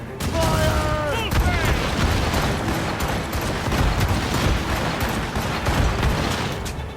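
Ship cannons firing in a naval battle in Assassin's Creed Rogue Remastered, a dense continuous barrage of heavy booms and crackling blasts, loud and close, with shouted voices briefly over the din.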